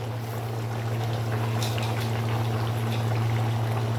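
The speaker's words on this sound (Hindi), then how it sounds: "हम इसमें इमली का पानी डालेंगे" Tamarind water poured into a chicken biryani masala, a steady liquid pouring and bubbling wash over a constant low hum, continuous and fairly loud at close range.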